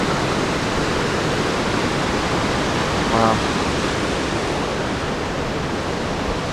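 Steady, dense roar of the waterfall at Chambers Creek beside a swimming pool of water, filling the whole clip at close range, with one person's brief exclamation midway.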